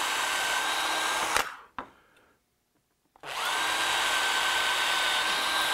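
A small 1/8 inch drill bit bores a dowel hole, a loud, steady power-drill whine that cuts off, leaves a second or so of silence, then starts up again and runs continuously.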